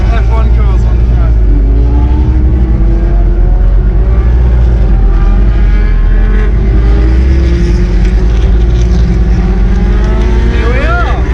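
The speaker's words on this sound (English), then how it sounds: "there are some 70s Formula 1 cars driving around at the moment" 1970s Formula 1 cars race around the Silverstone circuit during a classic car event, their engines droning and shifting pitch continuously at a loud level. Crowd and ambient noise mix in beneath them.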